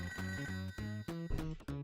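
A telephone rings in the Toe Jam & Earl video game, a synthesized electronic ring in rapid repeated bursts with short gaps, clear and alone.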